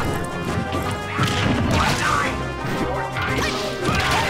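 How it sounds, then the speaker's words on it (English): Ike's up smash attacks landing in Smash 4, a dense flurry of heavy crashing hits and whooshes layered over game sound, loud and continuous throughout. "there are so many Ike up smashes"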